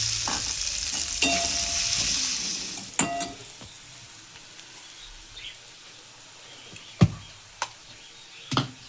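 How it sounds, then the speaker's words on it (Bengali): Onions fry in oil for a tilapia fish curry, a hissing sizzle that fades after a few seconds, followed by scattered spoon knocks and scrapes against the pan, close and fairly quiet. "পেঁয়াজগুলো একটু ভেজে নেবো লাল লাল করে"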